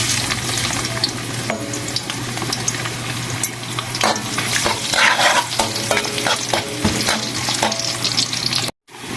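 Ginger fries in hot cooking oil with a loud, continuous sizzle and repeated stirring scrapes and clinks of a utensil against the pan, no talk.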